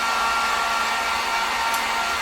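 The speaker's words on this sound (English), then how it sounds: "you use a hair dryer or a heat gun" Hair dryer blowing hot air to dry paint on a photo tile craft, a steady loud whoosh and whir without a break.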